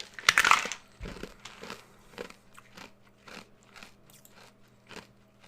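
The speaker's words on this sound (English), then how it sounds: "Stop chewing your ice cubes?" Ice cubes crunch loudly between the teeth in one sharp burst up close, then a string of softer chewing crackles and crushing bites follows at an uneven pace.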